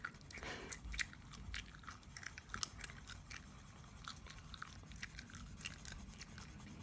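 Quiet, close gum chewing made for ASMR, with soft irregular wet clicks and smacks repeating steadily against a faint hush, and no talking.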